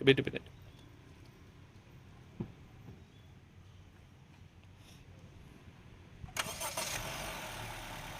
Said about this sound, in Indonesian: Ini suara irama mesinnya juga masih garing